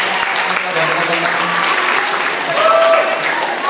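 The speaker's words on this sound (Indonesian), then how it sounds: "Tepuk tangan buat tim Pak dan teman-teman." Audience applause at a faculty of psychology anniversary opening ceremony, a steady clapping crowd for a few seconds with some cheering, swelling slightly toward the end.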